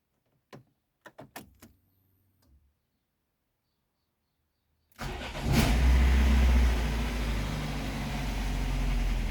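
A combine harvester engine starts after a few faint knocks and thuds, then idles loudly and steadily with a deep, rumbling drone as it warms up, close by.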